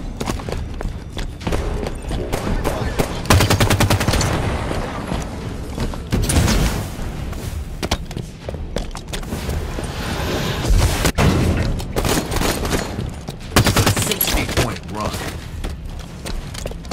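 Light rifle gunfire in Halo 5 multiplayer, loud repeated bursts and booming impacts throughout amid busy game effects and an announcer voice.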